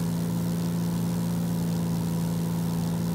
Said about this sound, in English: I know I'm over-torquing the fucking engine.